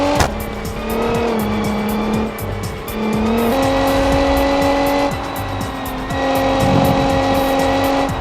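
A minivan's racing engine in a video game, fitted with a new gearbox and exhaust, roars steadily, its pitch dropping in several distinct downshifts, with tire squeal and a game-like mix, no voices.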